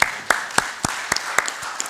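Members of the press clapping at a briefing, a handful of sharp, separate claps spaced unevenly over a couple of seconds, close and moderately loud.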